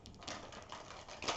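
Tarot cards being shuffled in a quiet room, giving a soft, continuous riffling patter with a brief louder burst near the end.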